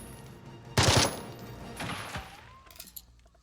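Gunfire in a video game: a loud, close burst of rapid shots, followed by a second softer volley and scattered metallic clinks as it fades.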